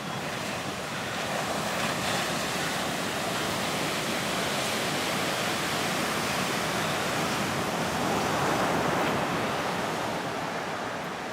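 Wide coastal ocean on a flat, cloudy day gives a continuous, even wash of distant surf and wind noise with no talking.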